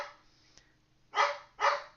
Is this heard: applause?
no